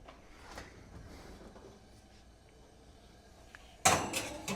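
A dish clatters sharply into an oven near the end of a quiet kitchen moment, a brief loud metallic clunk and rattle standing out from faint background noise.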